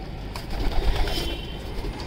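Racing pigeons coo softly and close by in a low, murmuring burble, joined by faint rustling and light background noise.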